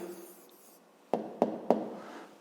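Pen or pencil writes an answer by hand on paper, a soft scratchy stroke early on followed by three sharp, evenly spaced taps or strokes, close and quiet with no talk.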